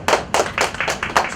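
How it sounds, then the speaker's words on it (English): A small group of people gives a round of welcome claps in Bute Park, Cardiff: six sharp hand claps in quick, slightly uneven rhythm, close and loud, with no talk. "We welcome everyone, we give them a clap"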